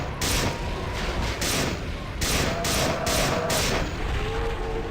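Gunfire from a weapon in System Shock 2, a string of sharp, loud bursts fired close by in quick clusters with brief gaps, over a steady hum of game ambience.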